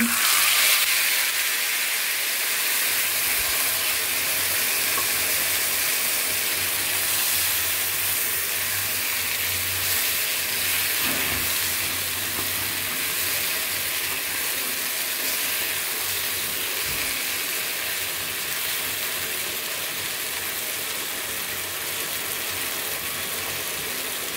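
Eel (baim) fish pieces dropped into a hot pan give a steady, dense frying sizzle that holds at an even level for the whole stretch, close and continuous, with no talk over it.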